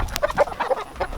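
Several chickens cluck in short, uneven bursts while being coaxed toward feed scattered on the ground, the calls close and moderately loud with brief gaps between them.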